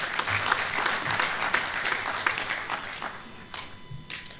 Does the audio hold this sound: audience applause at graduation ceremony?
yes